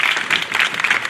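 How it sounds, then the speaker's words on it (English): A crowd applauds at an outdoor LGBTQIA+ flag raising ceremony in East Orange, a brief burst of steady, moderately loud clapping. "Let's give Lene another round of applause also for doing such a great job"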